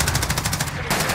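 Rapid automatic gunfire from a Call of Duty Modern Warfare multiplayer match rattles out in a steady, loud burst, briefly cutting off before the shots resume.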